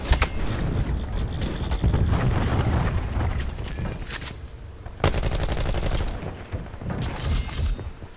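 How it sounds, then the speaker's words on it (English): A cluster grenade goes off in Call of Duty: Black Ops 4, one of many loud explosive bursts among rapid gunfire and repeated booms, with a sharp crack near five seconds followed by a chattering volley. "Cluster grenade going out."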